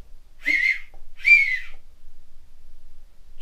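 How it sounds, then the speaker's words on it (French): Two shrill, piercing whistles blown through an acorn cap held between the fingers, each lasting about half a second with a short gap between, loud and close in an otherwise quiet setting. "Tu vois, je viens siffler là."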